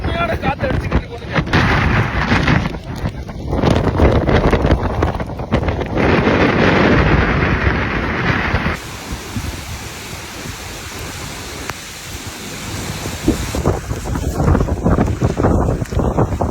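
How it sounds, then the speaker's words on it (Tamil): Strong wind blows over the Pamban sea bridge in heavy rain, roaring as a loud, continuous buffeting gust against the microphone. It eases slightly midway and then surges again. "காத்து வந்து பாம்பன் பாலத்தில் அடிச்சு கடுமையான காத்து அடிச்சுக்கிட்டு போகுது"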